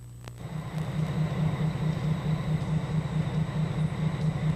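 A diesel locomotive works the Indiana Harbor Belt hump yard, switching rail cars; a steady, loud low engine drone with a rhythmic throb carries on without pause.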